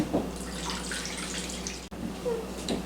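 Water pours into an Instant Pot of spaghetti ingredients, a steady close splashing stream that carries on for several seconds with a brief break near the end, then resumes.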